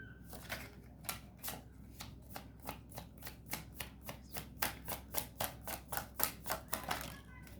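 Tarot cards being shuffled, a steady run of crisp riffling flicks in quick even rhythm that grows slightly louder toward the end, close and fairly faint.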